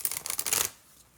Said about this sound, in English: And I'm going to start shuffling your cards.